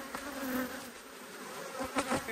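Honey bees hum inside an open hive during an inspection, a dense, steady buzz close at hand with a few louder swells as individual bees pass near, and no voices.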